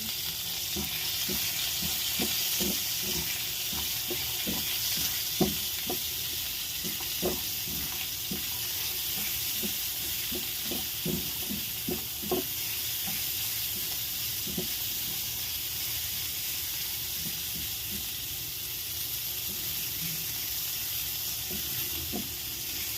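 Onions sautéing in hot oil left from frying bananas and pork for pork estofado, a steady close sizzle under repeated scraping stirs of a utensil against the pan.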